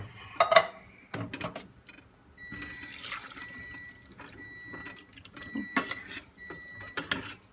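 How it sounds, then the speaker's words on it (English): Drained string beans are dropped into a pan of bacon juices, giving wet splatters and clattering bursts at irregular moments between quieter stretches of faint dripping and liquid sounds. "I'm going to take string beans. I drained some of them, and I'm going to put them in here and let them cook down"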